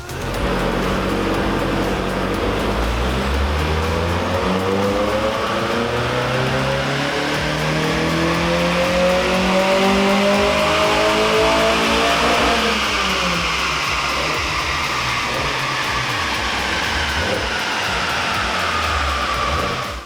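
A Mazda MX-5 engine revs up steadily through the gears on a dyno, pitch climbing loud and high, then dropping back and rising again.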